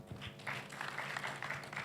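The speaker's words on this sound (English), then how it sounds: "please, let us give the entire panel a round of applause, please" A conference audience gives a breakout panel a round of applause at a devolution conference, steady clapping from the room that holds fairly even through the brief moment, with a few louder bursts.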